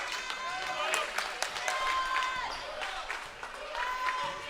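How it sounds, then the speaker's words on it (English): Crowd noise at a high school district semifinal basketball game between Nease and Oakleaf, with scattered cheers and shouts rising in a gym, mixed with sneaker squeaks and bouncing, under steady commentary. "For a small crowd, it's starting to get loud in here."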